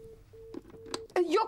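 A telephone line gives a repeating steady busy-style tone broken by short gaps, with a voice breaking in near the end, in an indoor domestic scene.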